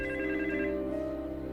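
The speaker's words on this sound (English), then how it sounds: "And then the phone rang." A telephone on a private line rings, a steady electronic trill that warbles briefly and then sustains as a single continuous tone, fairly close and clear with no talk over it.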